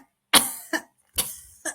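A person coughs up close in a series of four quick, raspy bursts, two pairs of a strong cough followed by a weaker one, with near silence between them.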